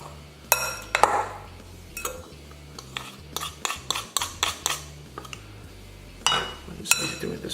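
Feta rice being mixed and combined in a dish, with irregular clinks and scrapes of a utensil against the dish, moderately close, some faint talk in the background.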